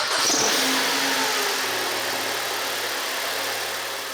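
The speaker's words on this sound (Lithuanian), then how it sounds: "Tada užsidėjau duslintuvą, vėl užsivedžiau, pasitikrinau, kad niekas niekur nebėgtų" A BMW E87 engine runs steadily after being restarted with the exhaust silencer refitted, a close, continuous mid-pitched hum with no revving, holding level throughout.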